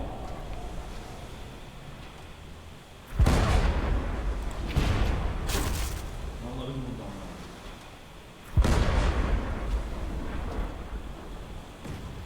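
Ship cannons fire in the pirate game Blazing Sails. Three loud booming blasts sound at intervals, each trailing off into a rumbling, windy roar. A voice is heard speaking over the action.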